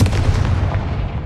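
A Confringo fire spell blast in Hogwarts Legacy: a loud, booming explosive burst with a heavy low rumble that holds steady for about a second, with no talk.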